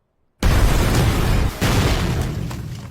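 A sudden, loud explosion in an action film bursts in after near silence, a heavy booming blast with a second jolt about a second later, then a long rumbling decay.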